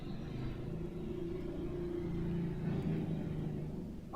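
Outside, a motorcycle rumbles past with a low, steady engine drone that swells a little in the middle and then fades.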